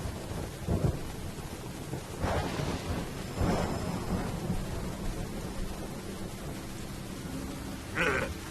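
Thunder rolls through a rainy stretch of the video game Metal Gear Solid 3, with low rumbles and a few sharper cracks over constant rain hiss, all fairly quiet.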